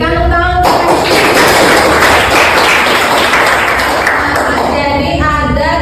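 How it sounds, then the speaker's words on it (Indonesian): A classroom of students bursts into sustained applause, dense clapping filling the room from just after the start to near the end, with a voice briefly audible at the edges. "Oke, berikan tepuk tangan."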